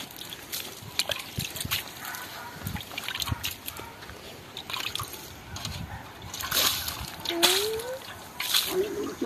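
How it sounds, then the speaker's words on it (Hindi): Water is poured onto a patch of garden soil, giving irregular splashing and trickling close by, with people talking over it. "पहले इसको पानी मारना पड़ता है जमीन को"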